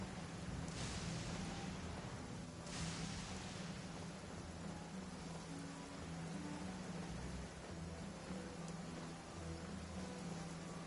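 Steady hiss of falling rain in the Genshin Impact game world, a dense, even wash of drops with a couple of brief swells, continuous and close with no speech.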